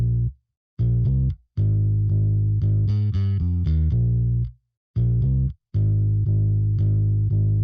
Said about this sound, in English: And I've got this little bass patch right here, which is an Ampeg SVT